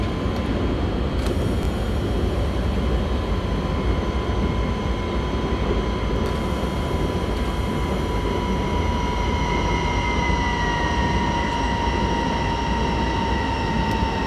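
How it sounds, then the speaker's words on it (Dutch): BR 189 electric locomotive running in Train Simulator 2018, hauling a freight train: a steady rumbling roll with rising whining motor tones and occasional clanks, continuous and fairly loud throughout, with no talking. "Oh, wat een heerlijk geluid heeft die trein ook."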